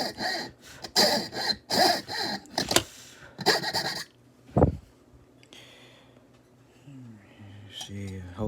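A jeweller's saw cuts a letter shape out of a piece of pearl along a pattern, giving bursts of rapid rasping strokes for several seconds, then a pause followed by a few scattered scrapes and clicks.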